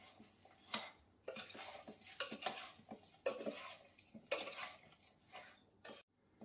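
A spoon scrapes and clatters against a bowl as sugar is mixed into raw mango pieces, irregular bursts of close scraping and clinks separated by short pauses.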